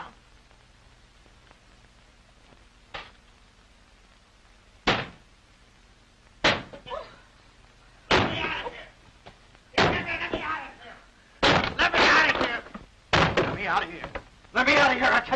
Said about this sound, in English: I'll bust the door down.